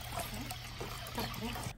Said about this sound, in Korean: 깨끗하게 씻어서 물기를 조금 빼주세요.